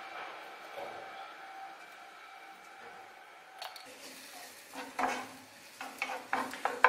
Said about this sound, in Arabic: ندير البصله باش تشحر